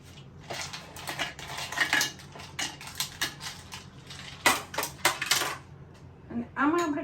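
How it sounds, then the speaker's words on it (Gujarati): Ice cubes dropped one by one into a glass of raw mango drink, a series of sharp, bright clinks and clatters in uneven rhythm, close and distinct, ending with a short ringing tone. "Ice cube."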